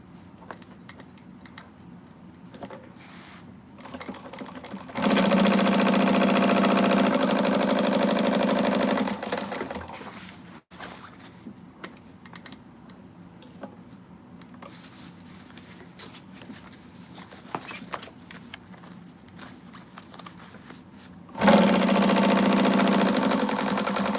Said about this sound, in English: I always backstitch over my zipper teeth.